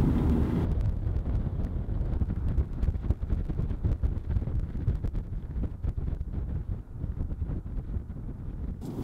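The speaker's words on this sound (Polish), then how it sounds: "Jest ten wiatr cholerny." Strong Saharan wind in Mauritania roars and buffets a microphone nonstop while driving an electric car, a dense low rumble with gusty bursts, loud and close throughout.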